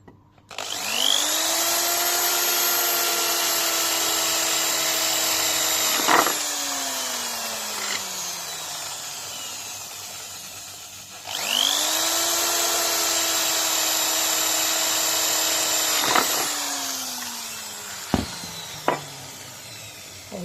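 A power drill with a bit spins up twice into long, steady high-pitched whines, each run lasting several seconds before winding down, followed by a couple of sharp clicks.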